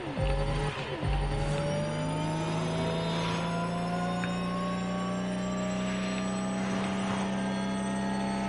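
A racing car engine in The Crew Motorfest video game, a steady loud droning hum with rising revs and faint tire squeal, continuous throughout.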